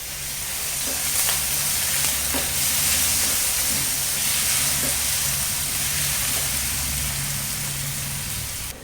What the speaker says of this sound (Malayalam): നെയ്യ് ചൂടായി കഴിഞ്ഞാൽ നമ്മൾ ആ അരപ്പ് അതിലോട്ട് കോരിയിടുക